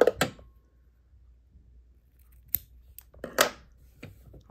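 Scissors snip through the fabric overhang of a quilt block, a few short, crisp cuts spaced apart in a quiet room.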